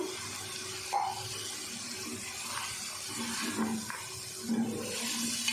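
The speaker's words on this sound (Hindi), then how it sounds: "अब मैं डाल दूँगी आधा गिलास पानी का।" Half a glass of water splashes and trickles steadily into a cooking pot of beef with potato and cauliflower, a soft continuous pour with a few louder gurgles near the start and end.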